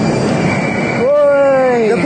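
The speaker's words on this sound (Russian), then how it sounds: "И тут громко поезда ходят" Metro trains run through a Moscow station, a loud rumbling roar rising into a long squealing wheel screech as a train moves along the platform, with voices faintly in the background.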